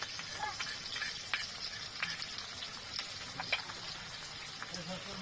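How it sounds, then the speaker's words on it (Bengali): Tomatoes and ginger-garlic paste frying with country chicken in a hot pan, a steady close sizzle with crackling pops and a few stirring scrapes. "এবার টমেটোগুলোও দিয়ে দিচ্ছি এবার দিচ্ছি আদা রসুন বাটা"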